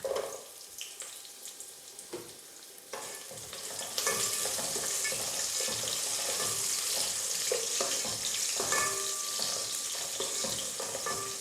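Cashews and a bay leaf frying in hot oil in a pan for coriander pulao, a steady close sizzle that swells louder partway through with occasional stirring clinks, no voices.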